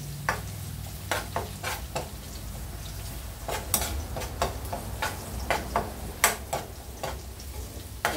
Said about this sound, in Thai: เจียวกระเทียมให้เหลืองให้หอมเลย